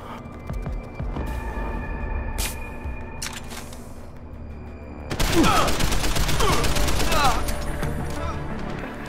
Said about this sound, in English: with gunshots sounding like gunshots.